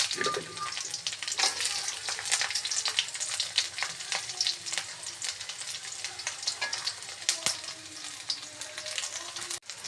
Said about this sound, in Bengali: ফার্স্টে দিয়ে দিব হচ্ছে আস্ত রসুনগুলা দিয়ে দিব